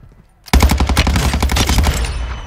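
The Cronen Squall rifle in Call of Duty Warzone 2.0 cuts loose after a short pause with a sustained burst of rapid automatic fire, loud, close and tightly spaced, lasting about two seconds.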